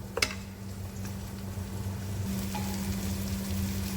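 Masala spices sizzling and frying in a pan for Punjabi-style egg masala pasta, a steady soft crackle with a brief clatter near the start and a low hum underneath, no talking.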